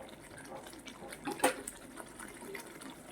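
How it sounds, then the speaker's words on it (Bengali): A small ladle of gravy from a spinach fish curry is poured, a single brief soft splash at moderate distance, faint against a quiet kitchen background. "অল্প ঝোল দিচ্ছি"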